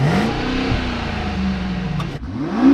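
An engine revs up loudly nearby with a throaty exhaust note, dips, then climbs again at the end.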